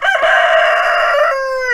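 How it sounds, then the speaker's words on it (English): A rooster crows loudly and close in a sustained drawn-out call among a small free-range group of chickens, with the crow trailing off at the end. "a little group of chickens like this"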